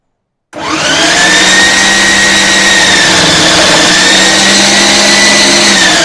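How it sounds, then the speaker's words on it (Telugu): A mixer grinder grinding pumpkin whirs loudly and steadily at full speed, starting abruptly after a brief silence and running continuously with a high motor whine. "నేను మిక్సీ జార్లో వేసి పట్టేస్తున్నాను"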